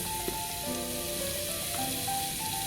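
Masala spices for a turnip curry sizzle and fry in a hot pan, a steady close crackle with a light stir partway through, no voices.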